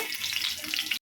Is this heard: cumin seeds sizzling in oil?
yes